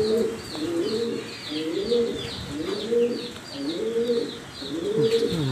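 Pigeons or doves coo steadily in a chick enclosure, with repeated soft low calls overlapping and faint chirps above them, close and continuous with no talk.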